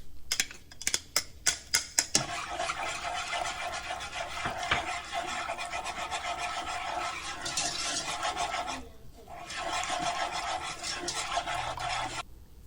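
Milk being stirred into a nacho cheese sauce with minced garlic, a steady close scraping and swishing of a utensil against the pan, preceded by a few sharp taps, with a brief pause before the stirring resumes.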